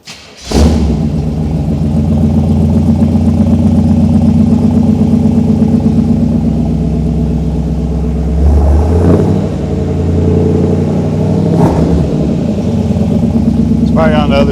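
A 1951 Chevy 3100 pickup with a swapped-in 350 V8 starts and runs loudly nearby, a steady heavy rumble that shifts and surges partway through as it is put into gear, with voices heard over it.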